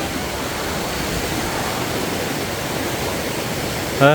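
Water pouring steadily down Phlio waterfall in Chanthaburi, a dense, unbroken rushing roar that holds at an even level throughout, with a brief faint tonal sound at the very end.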